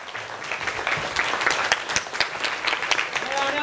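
A lecture audience applauds to welcome a professor on stage, close, lively clapping with scattered sharp claps and murmuring voices mixed underneath.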